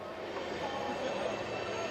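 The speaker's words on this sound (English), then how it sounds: "That's that squeaky train going by, Jody." A squeaky train passing near a college baseball game at Louisville, heard as a steady, dense rumble with thin squealing tones running through it, continuous and fairly distant.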